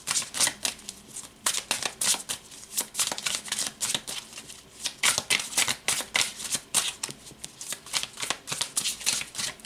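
Tarot cards are shuffled by hand in a continuous, close-up riffling and slapping pattern, with rapid bursts of papery flicks repeating throughout and no talk.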